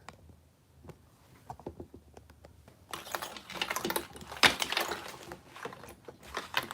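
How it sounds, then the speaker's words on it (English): Sewing machine stitching a cork bag, a basted seam sewn cork side up: light scattered clicks at first, then a denser run of stitching rattle, faint and close. "I'm going to sew it cork side up."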